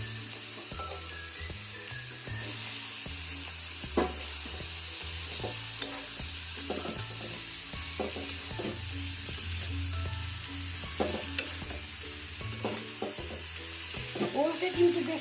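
Boiled elephant foot yam stirred into spiced oil with tomatoes in a pan, for a prawn dish: a steady sizzle with repeated scraping stirs and spoon knocks throughout, close and fairly loud, no talking.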